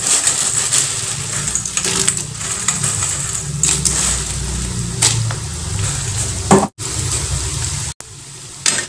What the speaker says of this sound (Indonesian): Nah, kita goreng sekali lagi untuk pengeringan ya.